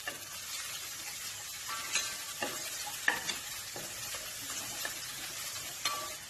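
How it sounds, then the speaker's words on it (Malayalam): Chopped onion sautéing in a pan for a Kerala-style potato stew, a steady soft sizzle broken by occasional spoon stirs and light clinks against the pan, close and fairly quiet with no talk. "ഉള്ളി ഒന്ന് സോഫ്റ്റ് ആവാനായിട്ട് മാത്രം ഒന്ന് വഴറ്റിയാൽ മതി."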